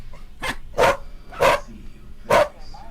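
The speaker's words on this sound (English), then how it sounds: "that's a dog barking" A dog barks four times in an uneven rhythm, sharp close barks standing out over a quiet background.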